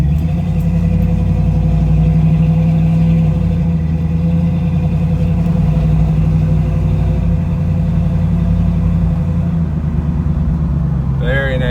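A 1968 Chevrolet Camaro SS engine runs steadily with a deep, rumbling V8 tone as the car drives along, loud and close throughout.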